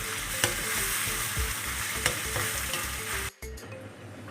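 Three tomatoes fry with green chilies and curry leaves for a potato roast, giving a loud, dense, continuous sizzle with occasional stirring clicks, close up and with no voices, before a brief dip near the end.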